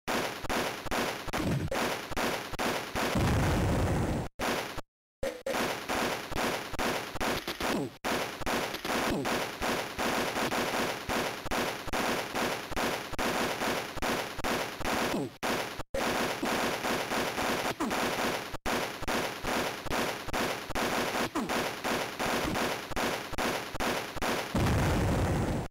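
Auto rifle fire in the Game Boy Color game Army Men, a steady stream of rapid, evenly spaced electronic gunshots lasting over twenty seconds with only a few short breaks, loud and alone.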